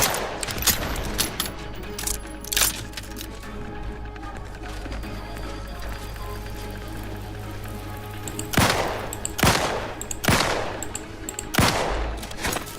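Gunfire in the sci-fi video game The Outer Worlds comes as sharp, loud shots, a scattered burst early on and then several heavy blasts toward the end, over game ambience and footsteps.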